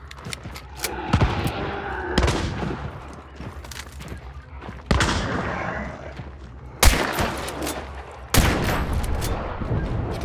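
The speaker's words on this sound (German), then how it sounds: "auch dicke Pumpgun-Schüsse oder Explosionen" Gunfire and explosions in the video game Hunt: Showdown: heavy shotgun blasts and booms hit at irregular intervals, several sharp loud reports standing out over a constant rumbling battle background.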